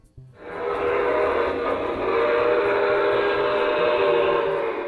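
A Lionel toy Acela train runs on a layout, its whistle sounding loud and sustained after a brief start, with a faint rumble of the train underneath.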